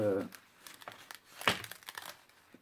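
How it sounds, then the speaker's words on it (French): Green crepe paper wrapping, closed with a sticker, crinkles and rustles in short bursts near the microphone while people talk over it. "dans un joli papier crépon vert"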